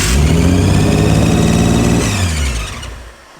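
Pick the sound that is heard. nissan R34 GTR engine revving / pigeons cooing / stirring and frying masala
nissan R34 GTR engine revving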